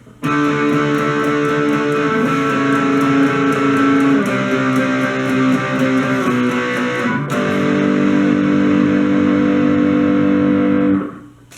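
A distorted electric guitar strums the pre-chorus of a song, loud and sustained, with one chord change partway through before stopping.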